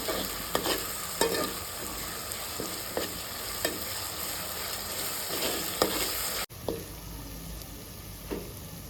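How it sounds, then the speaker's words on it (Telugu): Ginger garlic paste frying and being stirred in a pan for chicken curry, with a steady sizzle and periodic scrapes and clicks of a spoon, close and continuous with a brief cut near the end. "అల్లం వెల్లుల్లి పేస్ట్ కొంచెం ఫ్రై చేసుకున్న తర్వాత చికెన్ వేసుకోవాలి"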